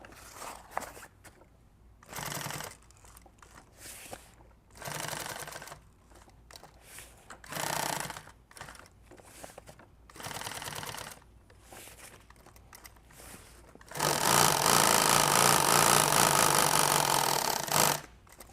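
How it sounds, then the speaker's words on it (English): A sewing machine stitching a piece of an LBV build, running in several short bursts of a second or so and then one longer, louder sustained run near the end, with quiet handling between. "So I'm going to sew up."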